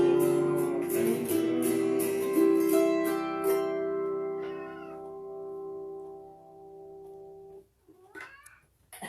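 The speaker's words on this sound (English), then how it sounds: "There's a kitty down here. Got a little cat. I don't know if he's complaining or what." A cat meows in a long, drawn-out complaining wail that holds steady then fades, followed by a couple of shorter cries near the end.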